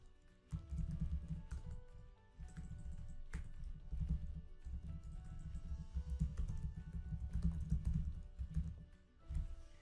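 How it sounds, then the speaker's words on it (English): Fingers type on a computer keyboard in steady bursts of close key clicks with brief pauses, continuing alone for about ten seconds. "So I can just go in and type that."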